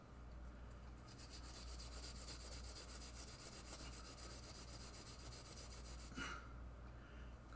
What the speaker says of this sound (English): Cleaning the Jones plugs now. Got my green Scotch-Brite.